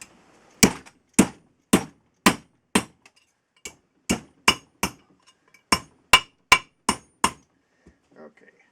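A 1948 Community silver-plated fork being flattened with a hammer: about sixteen sharp metallic strikes in an uneven rhythm, loud and close, each ringing briefly, with a short rustle at the end.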